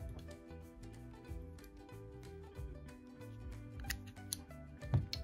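Scissors snip through paper being cut for kettle stitch bookbinding, a quiet series of short, crisp cuts over soft background music, with one sharper snip near the end.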